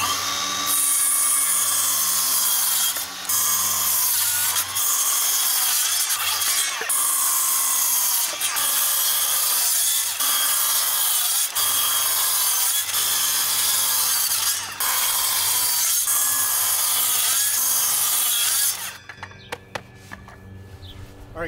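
Power saw cutting wooden deck boards to 18-inch lengths for a bucket grow table, a loud continuous whine through the wood with brief dips between cuts before the blade winds down near the end.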